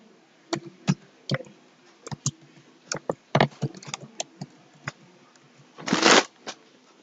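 A computer keyboard clicks in irregular single keystrokes and short bursts while login details are entered, ending with a louder rattling clatter near the end, recorded close with no talking.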